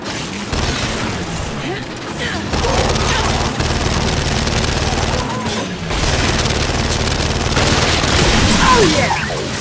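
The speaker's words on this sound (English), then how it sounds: "That turret's ripping us up!" Heavy turret fire rattles during a Gears 5 battle, a sustained mechanical barrage with booming impacts layered over game effects, loud and nearly constant throughout.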